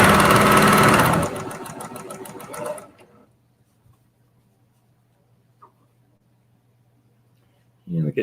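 A sewing machine stitches quilt squares for a nine-patch block, running loud and close in a fast steady whir for about three seconds before stopping, then near silence with a faint hum and a brief burst of movement at the end.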